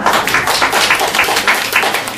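A crowd of parents at a Daegu briefing session claps in a short, even burst, many hands patting together at close range.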